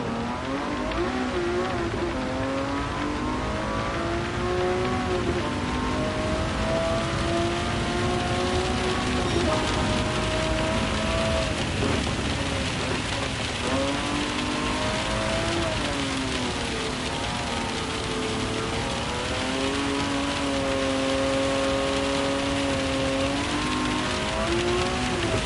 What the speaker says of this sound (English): This is the McLAREN F1 Drift Edition with racing soft tires in the rain.